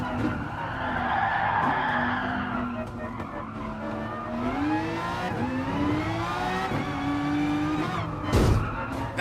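Lamborghini tires squealing under oversteer in Gran Turismo Sport, a sustained skid with the pitch sliding up and down over a steady engine drone, ending with a brief burst of noise.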